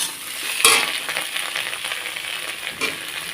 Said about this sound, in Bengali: এখন দিয়ে দিলাম টমেটো কুচিটা